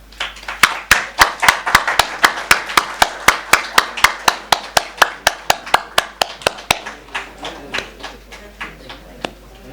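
Clapping at a ceremonial lamp lighting during a gathering, a loud, evenly spaced series of about thirty sharp claps in a steady rhythm that gradually softens and thins toward the end.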